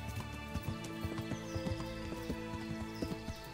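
A horse galloping in the video game Kingdom Come: Deliverance, its hooves pounding out a steady, rapid clip-clop rhythm at moderate loudness over a low ambient bed, with no one talking.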